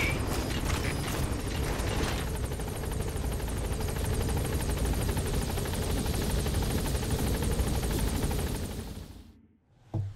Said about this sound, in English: Come on, hell chopper, come get me.